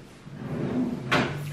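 A bathroom drawer slides along its runner and then bumps shut with a short, close, clattering knock near the end, with no talking over it.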